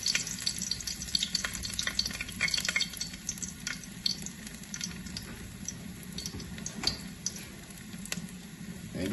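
Ginger frying in hot oil in a pot for Jamaican brown stew goat, a steady crackling sizzle with scattered pops and occasional stirring scrapes throughout, close and continuous with no talking.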